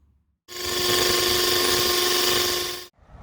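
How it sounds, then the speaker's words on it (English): A battery-powered drill whirs at high speed in one steady burst of about two and a half seconds while installing wireless CCTV, close and loud, then stops abruptly. "Obviously a battery powered drill as well."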